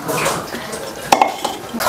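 Palak paneer being stirred in a cooking pan, the spoon scraping and clinking against the metal in a few distinct knocks over a soft wet mixing sound, close up and alone.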